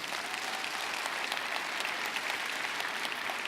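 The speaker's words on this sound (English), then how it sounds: "I think that deserves applause." Conference audience at an opening summit welcome claps in steady, even applause from many hands, moderately loud and continuous for a few seconds, with no speech over it.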